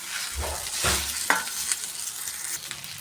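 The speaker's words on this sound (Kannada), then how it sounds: "ಇದನ್ನು ಎಣ್ಣೆ ಹಾಕಿ ಹುರ್ಕೋತೀನಿ." Sorrel leaves (pundi palya) frying in oil in a pan, a close sizzle with two stirring bursts and a sharp clink, then fading crackles.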